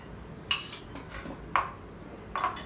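Melted butter, half a cup, stirred in a bowl with a utensil, giving three light clinks and scrapes against the bowl at a slow, uneven pace in an otherwise quiet kitchen.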